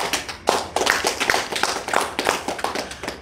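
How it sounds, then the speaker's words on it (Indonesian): A small audience claps during a religious lecture, with loose, uneven hand claps in irregular bursts, fairly close and distinct rather than a dense roar, lasting a few seconds. "Tepuk tangan."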